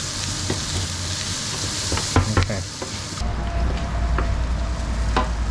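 Garlic frying in a pan for pad krapow gai, slightly stuck, a loud close sizzle with scraping stir strokes and clacks of a utensil against the pan, the frying hiss shifting partway through, no speech.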